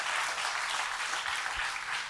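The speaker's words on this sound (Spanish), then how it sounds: "Dele un aplauso al fabricante del mejor producto del mundo." A church congregation applauds during a sermon, a dense, steady wash of many hands clapping that stays loud and even for about two seconds.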